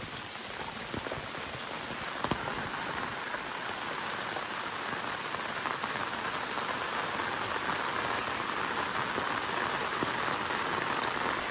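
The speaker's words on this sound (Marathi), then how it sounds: "कालपासून कंटिन्यू पाऊस पडतोय" Heavy continuous rain pouring down in a village, a dense, steady roar of drops hitting surfaces with scattered louder splashes, close and unbroken throughout with no voices.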